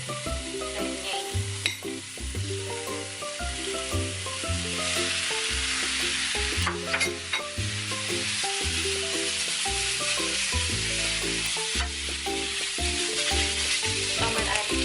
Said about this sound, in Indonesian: Nah, kalau cabenya udah mulai layu, boleh kita masukin si